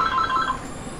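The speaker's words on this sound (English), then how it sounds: "That is a phone call." Telephone ringing with an incoming call: a short burst of bright, warbling electronic ring tones, fairly close and clear, fading out after about half a second over a low background hum.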